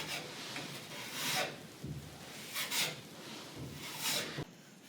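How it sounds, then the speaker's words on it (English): A putty knife pushes spackle into a small hole in a drywall wall, making close, soft scraping and rubbing strokes in several passes with brief pauses. "take a corner of your knife and pick up a little more spackle than you need to fill the hole, and you're gonna push it in there."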